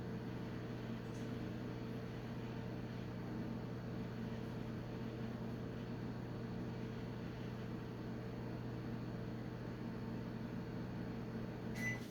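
A microwave oven hums steadily while warming chocolate for about fifteen seconds in a home kitchen, a low, even drone with faint clicks at the start and end and no talk.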